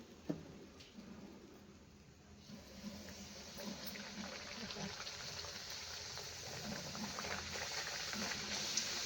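Sweet potato gharya deep-fry in oil with a soft, continuous bubbling hiss that slowly grows louder over several seconds, quiet and close.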